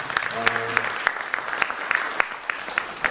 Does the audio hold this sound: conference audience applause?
yes